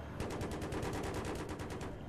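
Automatic gunfire rattles in the video game Battlefield 3, a fast steady burst of evenly spaced shots, fairly faint, running continuously for about two seconds.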